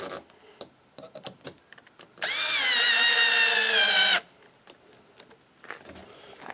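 A power drill bores a second hole through a wooden ukulele display board, one sustained two-second whine at steady pitch, preceded and followed by scattered handling clicks and taps.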